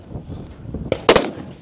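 Rifle shots at a tactical games shooting competition in Nevada, two sharp close cracks in quick succession after faint background movement and handling noise, with a brief echoing tail.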